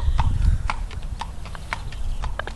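Steady clip-clop of horse hooves on a hard surface, close and rhythmic, with a low rumble of movement underneath.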